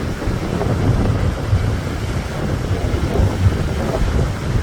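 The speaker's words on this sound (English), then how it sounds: "Lots of little waves because of how windy it is." Strong wind rushes across a beach where small choppy waves roll in and a boat moves slowly on rough water; a loud, steady buffeting roar runs throughout with no talking.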